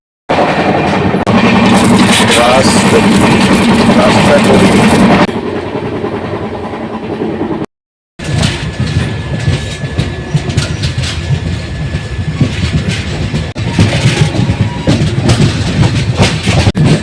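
The Falaknuma Express passenger train, running from Hyderabad to Kolkata, roars steadily on the rails, heard loud and close from on board with rushing wind and rhythmic clickety-clack of the wheels, briefly cut off before continuing.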